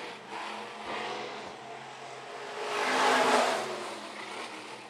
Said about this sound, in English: Justin Bustle now in that red and black 76 runs down the front straightaway.